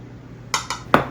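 Wonton filling with oyster sauce being mixed in a bowl, three quick clinks of a utensil against the bowl, the last the loudest, in a quiet kitchen without talk.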